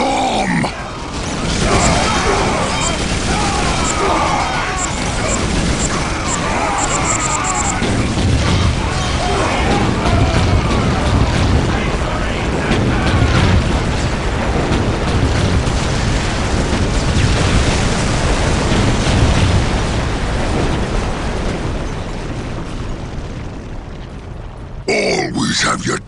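A bomb goes off in a Dawn of War: Dark Crusade cutscene, giving a long, loud, rumbling run of blasts and crashing debris that carries on for most of the clip, with voices heard beneath and at the end.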